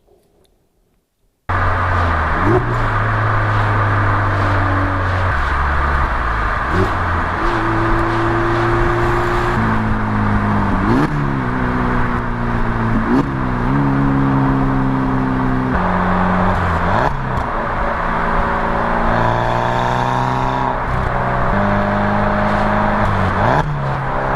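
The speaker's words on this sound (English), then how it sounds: "we just finished off our video with a medley of downshifting sound clips" A turbocharged 2016 Mazda ND Miata with an aftermarket muffler runs through repeated downshifts: a loud, continuous exhaust note with stepped pitch rises and falls, each blip and gear change recurring every few seconds, close and unbroken by talk.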